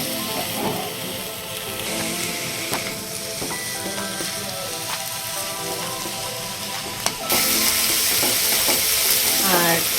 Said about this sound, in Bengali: আর একটু লাউটাকে ভাজা ভাজা করে নেব।